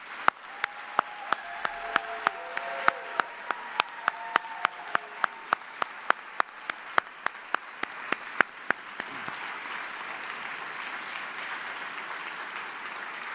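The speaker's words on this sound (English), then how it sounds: "please join me in a round of applause for these 28 great soldiers" An audience at an Army retirement ceremony applauds 28 retiring soldiers, a sustained wash of clapping over which sharp, evenly spaced booms ring out for about nine seconds before the applause carries on alone.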